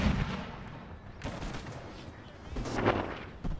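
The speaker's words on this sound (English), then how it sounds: "Famous Prussian artillery accuracy." Prussian artillery fires in an NTW Napoleonic battle at Auerstedt, heard as dull distant booms and a scattered rumble of gunfire, with a louder burst near the end over a low battlefield din.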